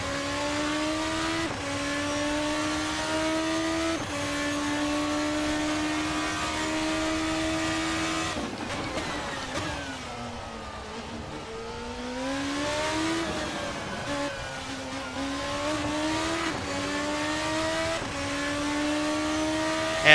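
The Formula RSS 2 open-wheel race car in a racing simulator screams at high revs, pitch climbing through the gears, then dips as it brakes and downshifts before winding back up to a steady howl.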